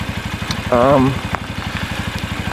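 A Lexmoto Isca 125cc motorbike engine idles close by with a steady, even chugging pulse throughout, briefly overlaid by a short vocal sound.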